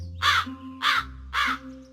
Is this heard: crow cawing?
yes